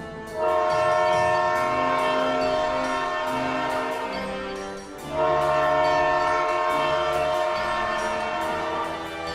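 Cartoon train at a station, its horn sounding in long sustained harmonic blasts that carry most of the clip, with a brief dip midway before the horn resumes loud over rumbling rail noise.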